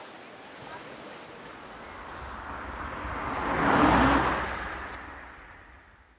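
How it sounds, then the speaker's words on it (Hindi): A car driving along a road in Uttarakhand, a broad whooshing rush that swells as it passes close by around the middle and then fades, with wind noise throughout. "गाड़ी चल के जा रही है उत्तराखंड।"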